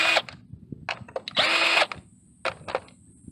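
A power tool spins off 10 mm bolts with a wobble socket on the engine of a 2005 Nissan Altima with the QR25DE engine, giving several short whirring bursts and one longer run, loud and close, between mechanical clatter.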